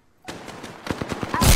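Rapid automatic gunfire in the battle game Apex Legends, a quick burst of close, sharp shots in steady rhythm ending in a louder blast.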